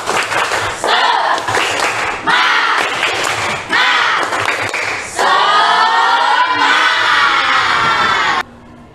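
A classroom of children does a rhythmic spirit clap cheer led by a teacher, with loud bursts of clapping and shouted chants in quick patterned phrases, ending in a sustained group yell that cuts off abruptly.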